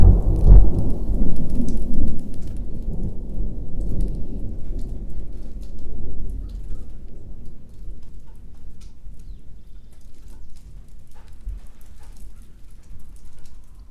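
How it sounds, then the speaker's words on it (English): Heavy rain pours steadily while deep thunder rumbles and rolls, loud at first and slowly fading into a softer, lingering rumble. "the amazing drum rolls of the thunder"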